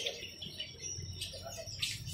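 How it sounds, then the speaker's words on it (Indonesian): A caged Java sparrow at a bird market gives repeated high, thin chirps over a steady busy background murmur, moderately near and fairly soft. "Geser ke atas, ada gelatik belongnya."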